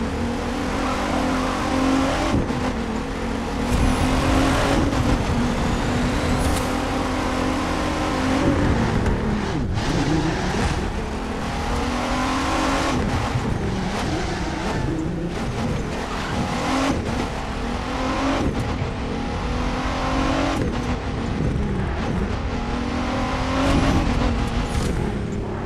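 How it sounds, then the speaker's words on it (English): Nissan Skyline R34 GTR engine in the racing game The Crew 2, loud continuous driving with repeated revving rises and gear-shift dips, occasional tire squeal, no talk over it. "I'll be quiet so you guys can hear the car."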